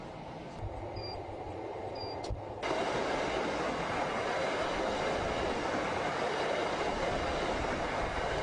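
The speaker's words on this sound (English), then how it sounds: "This train trip takes only 15 minutes." Makkah Hajj train running between Mina and Arafat, a steady loud rumble of the carriages in motion after a quieter start, with no talk.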